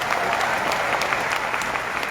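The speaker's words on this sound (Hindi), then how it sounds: "एक बार जोरदार तालियां खुद के लिए बजा दीजिए।" A business meeting audience in Patna applauds loudly, dense and close clapping from many hands sustained evenly through the short burst.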